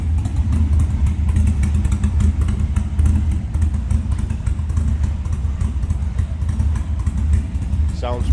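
A 1936 Ford Model 68 Deluxe street rod with a 4.6 engine and a mild cam idles steadily, heard from the rear, a loud continuous low rumble with light clatter throughout.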